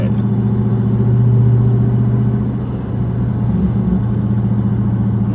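A Dodge Charger 392 Scat Pack on 275 tires, its engine giving a steady, loud low rumble throughout with a slight dip in the middle, heard from inside the car with no talking.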